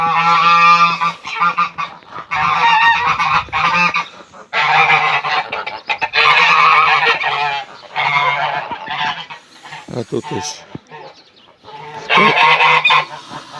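Loud, repeated honking from several Mammoth geese close by, overlapping calls in bursts with brief gaps, and someone speaks briefly between them.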